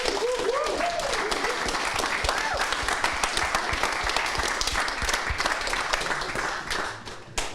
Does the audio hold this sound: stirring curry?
no